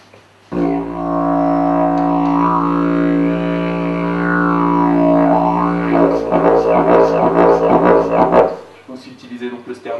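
Lips buzz into a didgeridoo, producing a loud, close, sustained low drone rich in overtones whose tone shifts midway into pulsing rhythmic variations before stopping abruptly.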